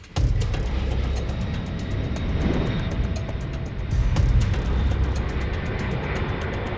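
A C-5M Super Galaxy military transport aircraft on a cross-country cargo flight, a dense, steady roar of broadband engine noise with a rhythmic pulsing texture, loud and continuous.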